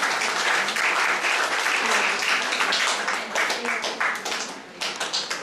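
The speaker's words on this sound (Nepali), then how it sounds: "ताली बजाइदिनुहोस् प्लिज।" An audience claps steadily at a Nepalese graduation celebration in Hong Kong, a dense, sustained round of applause that thins toward the end, with faint voices beneath.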